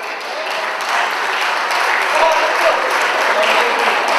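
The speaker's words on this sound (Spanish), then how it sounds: "fuerte el aplauso para la banda que ha estado recién acá" Audience at a charity folk music gathering applauds the band, a steady, loud wash of clapping that swells slightly and keeps going, with some voices in the crowd.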